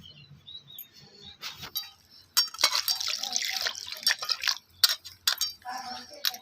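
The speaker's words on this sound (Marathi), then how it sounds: "ह्या पाण्यामध्ये आपल्याला दोन पाण्याने धुवून घ्यायचं आहे" Water sloshes and splashes in a bowl as grated potato is swished and rinsed by hand, in irregular bursts with quieter pauses, close by.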